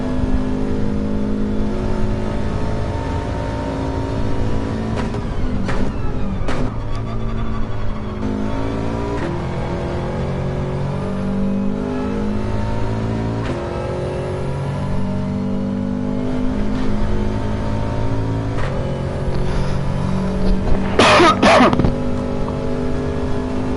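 A race car engine in Gran Turismo 7 revs hard and continuously, its pitch rising and falling through gear changes and downshifts, loud and sustained with a brief whooshing burst near the end.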